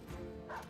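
War dog in the video game Battle Brothers gives a short, sharp yelp, a single quick bark-like cry with nothing else around it.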